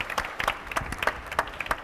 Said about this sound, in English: if we could just clap all those who took part in the writing category of the competition